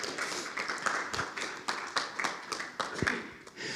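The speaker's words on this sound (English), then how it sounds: "So give yourselves a round of applause." Audience applause in a room, a steady patter of many hands clapping at moderate volume for a few seconds with no voices over it.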